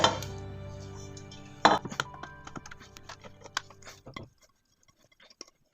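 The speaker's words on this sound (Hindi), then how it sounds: "तो ये 4 किलो गाजरें अब जाएंगी कुकर के अंदर।" Four kilograms of grated carrots tipped into a pressure cooker for carrot halwa, giving a loud rustling thump and scrape, a second dump, then scattered clatter and taps of a utensil before going quiet.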